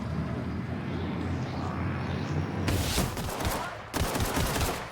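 Video game gunfire in rapid bursts, two loud sharp volleys of crackling shots cutting in over a steady background roar, close and dense.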